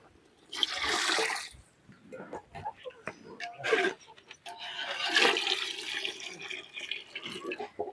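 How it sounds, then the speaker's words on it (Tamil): Water poured into a pot of goat curry cooking in a village kitchen: bursts of splashing and gushing liquid come in several pours, loud and close, with softer sloshing between them and no talking. "உங்க குடும்பத்துக்கு தகுந்த மாதிரி தண்ணி வச்சுக்கோங்க"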